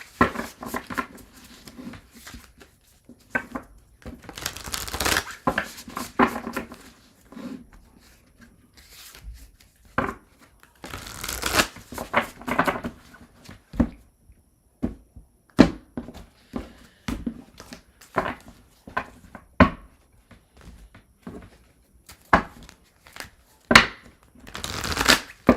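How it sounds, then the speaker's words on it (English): Tarot cards being shuffled close up in repeated riffling bursts with soft rustling and tapping between them. "Shuffle, shuffle, shuffle."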